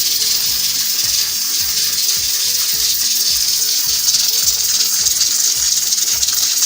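Pressure cooker sealed and set on a high flame, cooking misa gosht of heart, kidney, lung, liver and tripe, gives off a steady loud hissing gush of steam with faint rhythmic rattling underneath throughout.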